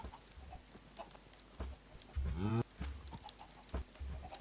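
Minecraft cow lowing once, a short harmonic moo near the middle, among scattered clicks and footstep-like taps in a quiet game scene.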